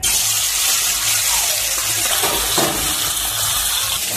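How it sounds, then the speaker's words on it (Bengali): River fish frying in hot mustard oil in a kadai gives a steady, fairly quiet sizzling hiss with faint watery bubbling and a brief scrape partway through, no talking. "মাছগুলোকে ভেজে নেব।"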